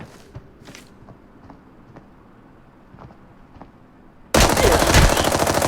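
Quiet ambience in the game Arena Breakout Mobile with faint footsteps, then a sudden loud burst of rapid automatic gunfire near the end.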